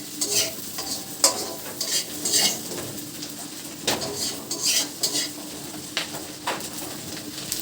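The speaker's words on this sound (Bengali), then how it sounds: "এখন আমরা আবার শাকের জন্য তেল আর পেঁয়াজ ভেজে নিচ্ছি তেলে" Onions frying in oil in a pan for cooking greens, a steady low sizzle broken by repeated scraping and clinking as a utensil stirs against the metal, close and without speech.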